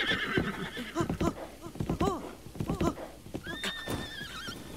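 Horse neighing with clip-clopping hooves in the video game Breath of the Wild, a loud whinny followed by a run of hoof beats, ending in a high squealing call.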